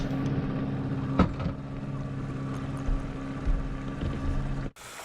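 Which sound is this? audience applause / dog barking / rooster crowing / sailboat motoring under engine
sailboat motoring under engine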